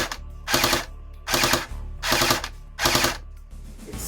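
A Cybergun FAMAS airsoft rifle running on an 11.1-volt battery fires four short, loud full-auto bursts, each about a third of a second long, with brief pauses between them.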